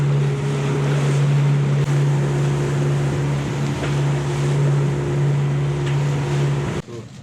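A Lagoon 46 sailboat cruising close along the Sardinia coast, with a loud steady engine drone, rushing water and heavy wind noise on the microphone, cut off abruptly at the end.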